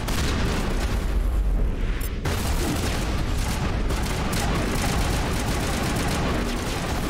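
Sustained sci-fi gunfire and heavy blasts from the shooter game Mass Effect fill the clip continuously, loud and dense throughout with a brief drop near the two-second mark.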